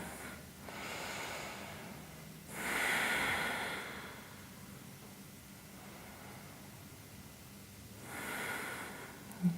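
Deep breaths during a yoga hip stretch in a hip mobility class, two broad airy exhales, one longer around the middle and a shorter one near the end, over a soft steady background hiss.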